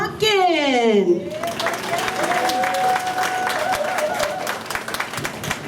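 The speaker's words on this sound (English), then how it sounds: "let's put your hands together for none other than comedian Pumpkin." Audience at a Grandparents Day event at an elementary school clapping for a comedian, a dense, sustained round of applause with crowd noise, following a descending musical sweep, with an announcer's voice at the start.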